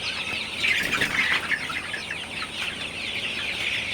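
Sonali chickens on a poultry farm cluck and chirp continuously as a dense flock, steady and fairly close with no talk over it.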